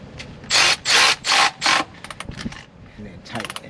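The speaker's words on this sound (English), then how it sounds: "one of the things about the Milwaukee ratchet, you can actually use it manually too" A Milwaukee ratchet turns a bolt during an oil change on a 2003 Dodge Ram 1500 4.7-liter, first four loud, even bursts of powered ratcheting, then quieter irregular manual clicks close by.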